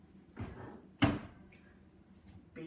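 An oven door swung open to take out a freshly baked loaf of bread: a soft thump, then a sharp, loud clunk of the door, a brief rattle, and a later lighter knock, close by in a quiet kitchen.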